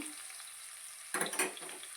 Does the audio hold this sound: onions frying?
yes